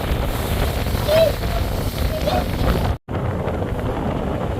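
Steady broadband rumble of the passenger launch MV Shatabdi Badhan cruising on a river in Bangladesh, mixed with heavy wind buffeting, continuous throughout apart from a brief dropout near the three-second mark.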